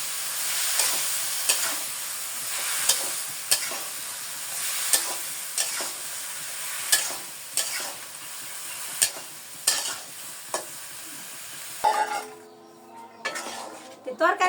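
A spoon scrapes and clinks against a pot at a steady rhythm as a curry is stirred, with a soft frying hiss underneath. Near the end the clatter stops and a brief different clattering sound follows.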